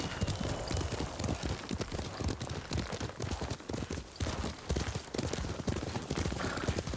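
Horse hooves clip-clop at a steady gallop during a ride in the Ghost of Tsushima video game, a dense, continuous rhythmic pounding that runs loud throughout with no talk over it.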